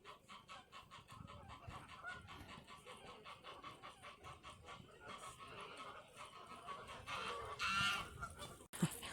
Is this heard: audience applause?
no